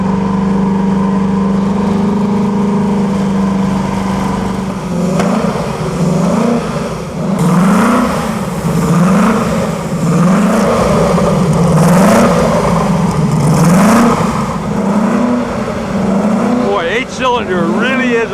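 Vintage cars on the road during the 2008 Mille Miglia, engines revving loudly in repeated rising and falling surges as cars pass close by, with people talking over the engine noise.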